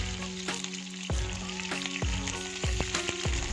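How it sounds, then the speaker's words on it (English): Chicken drumsticks for Korean glazed chicken fry in a pan with a loud, steady sizzle, while several dull knocks and thuds of pieces being placed or moved punctuate the crackle at uneven intervals. "we're gonna put all the chicken drumstick over the pan"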